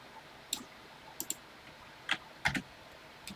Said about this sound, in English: This is the shuffle sound.